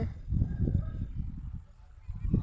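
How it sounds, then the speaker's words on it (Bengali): Birds honk and cackle repeatedly, like geese or ducks, in a busy overlapping chorus at a moderate distance. "পাখির ডাক কলরব"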